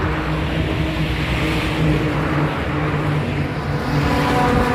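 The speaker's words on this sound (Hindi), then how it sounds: "इतनी गाड़ियां आ रही है समझ में नहीं आ रहा है।" Steady roar of vehicles streaming past on a busy highway during a long Rajasthan road trip, a continuous loud wash of engine and tyre noise with no pauses between cars.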